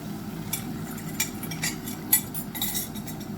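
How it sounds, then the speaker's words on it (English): Clinks and light metallic scrapes of utensils against a pan while eggs go into melted, browning butter, with several sharp taps standing out over a quiet background. "I'm going to throw the eggs in."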